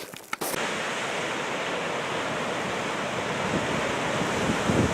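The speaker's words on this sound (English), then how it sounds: "Size of the waves coming in here" Ocean waves surging onto a shore in winter, a steady broad wash of surf with wind noise across the microphone, continuous and fairly loud after a brief handling bump at the start.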